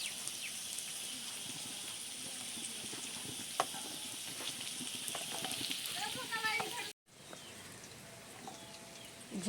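Pointed gourd slices sizzling in a frying pan, a soft steady crackle with occasional stirring clinks, briefly interrupted near the end.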